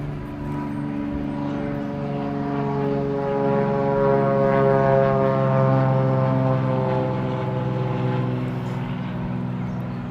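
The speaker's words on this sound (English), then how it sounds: "Oh, airplane coming." A propeller airplane drones steadily overhead, its low harmonic hum swelling slightly as it passes, loud and continuous with no talk.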